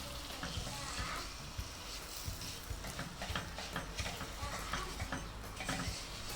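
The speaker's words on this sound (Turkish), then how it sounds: "Güzelce kavuracağız şimdi" Semolina roasts in a pan for helva while being stirred, producing a faint, steady sizzle with soft scraping and irregular ticks of the spoon against the pan.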